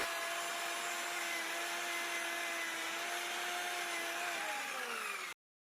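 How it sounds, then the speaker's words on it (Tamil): A power sanding machine grinds rust off the body of a Bajaj CT 100 motorcycle. The whine is steady, high and close, dips slightly in pitch near the end, then stops abruptly. "இது ரொம்ப துருவு இருக்கிறதுனால மிஷின் வச்சு தேய்ச்சிட்ருக்கோம்"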